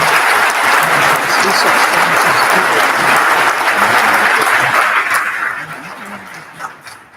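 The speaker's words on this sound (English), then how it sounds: "So a round of applause for all the family members" A crowd applauds the family members at a cadet class graduation ceremony. The loud, dense clapping holds steady, then thins and fades out over the last couple of seconds.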